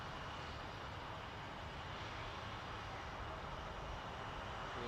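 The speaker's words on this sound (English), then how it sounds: "FedEx 147 is taxiing. Headed to Memphis on an MD-11 freighter." A FedEx MD-11 freighter taxis at Toronto Pearson Airport, giving off a faint, continuous engine rumble and hiss, heard from a distance with no voices.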